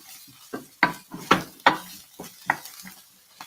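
Brussels sprouts with craisins cook in a pan, heard as a run of sharp stirring scrapes and clinks, about eight distinct strokes, over a faint background sizzle with no talking.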